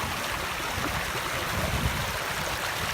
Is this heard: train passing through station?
no